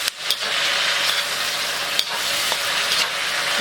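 Char kway teow noodles being stir-fried in a hot pan, a steady close sizzle with a few sharp scrapes and clacks of the spatula, no voices.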